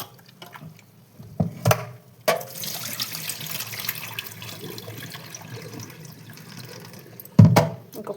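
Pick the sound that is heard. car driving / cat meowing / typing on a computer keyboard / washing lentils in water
washing lentils in water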